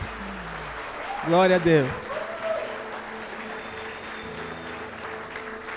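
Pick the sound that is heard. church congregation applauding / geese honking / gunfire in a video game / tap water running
church congregation applauding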